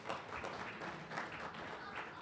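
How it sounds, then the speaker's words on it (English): Audience members clap together in a short burst of applause, faint and continuous throughout. "Applaud if you're a mellow driver."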